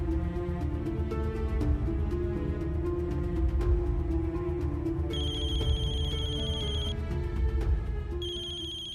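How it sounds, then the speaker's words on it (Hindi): An electronic telephone ringtone chirps in repeated bright bursts over steady background music in a Hindi TV drama scene, with no talking. "बॉस का फोन बज रहा है"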